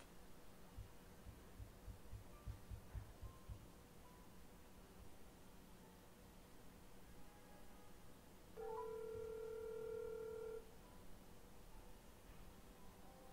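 A phone's ringback tone as a call is placed to another phone, a steady tone lasting about two seconds over a low hum and background noise.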